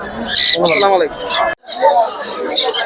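Harsh, raspy squawks and calls of caged birds, including baby mynas and parakeets, at the Tongi bird market come in quick overlapping bursts, close and loud, with a brief silent gap midway.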